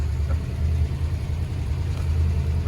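A 1953 Meteor car engine idling just after a cold start, a steady, loud low rumble heard close up with no break or change in pace.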